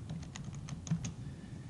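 Typing on a computer keyboard while writing an email, a quick irregular run of light key clicks heard close up against a quiet room, with no voices.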